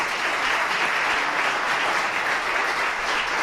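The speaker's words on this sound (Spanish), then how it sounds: "para quien pido un fuerte aplauso." Sustained, dense applause from a seated audience welcoming a guest speaker at a Spanish public debate event, steady and fairly loud throughout with no speech over it.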